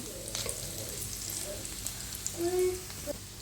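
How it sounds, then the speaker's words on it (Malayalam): Paneer cubes frying in a pan for a paneer masala, a soft steady sizzle with a few brief clinks of stirring, fairly quiet and with no voice. "അതുകൊണ്ടാണ് ഇങ്ങനെ പൊരിക്കുന്നത്"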